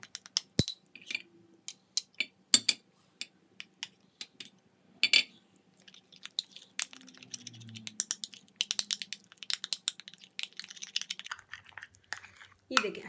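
An orange and rice flour face pack is stirred in a bowl, with intermittent clicks, taps and wet scraping of a spoon close by, and a voice talking at times.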